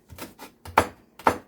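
Basil being chopped with a knife on a cutting board for homemade ketchup: five crisp, close knocks in an uneven rhythm, with the last ones sharper and louder.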